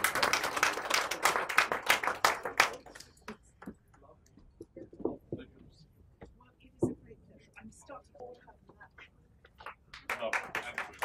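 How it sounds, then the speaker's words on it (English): Applause from the audience at an award ceremony held at the House of Lords, UK, with dense clapping at the start and end, quieter scattered claps and murmuring voices in between. "big round of applause"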